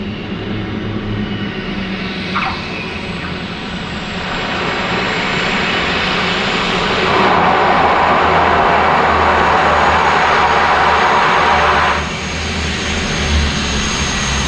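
A fixed-wing airplane passes among mountains near Everest base camp, its engine a loud, steady roar that swells in the middle and then eases off.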